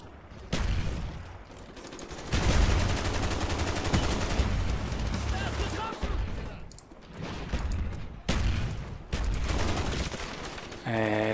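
Machine gun fire in Call of Duty Black Ops multiplayer team deathmatch on Nuketown, loud sustained bursts with brief pauses and booming hits, game sounds layered throughout.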